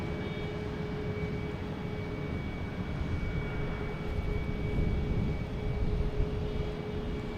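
An Air Portugal Airbus A321neo arriving from Lisbon at Boston Logan Airport: a steady, broad jet engine roar with faint tonal whine, swelling slightly as the plane passes, heard from a distance with no talking.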